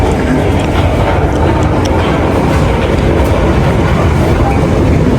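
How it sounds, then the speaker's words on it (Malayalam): A London metro train rumbles loudly with steady broadband roar and faint clatter on the rails, continuous and close, as if heard from inside the carriage; no clear speech. "നമ്മളിനി മെട്രോയിലോട്ട് കയറാം."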